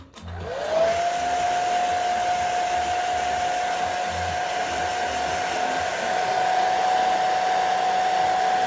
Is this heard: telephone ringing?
no